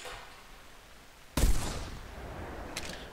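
A single shotgun blast from the hunting video game theHunter Classic, a sharp close report followed by a rolling decay, with a faint later echo.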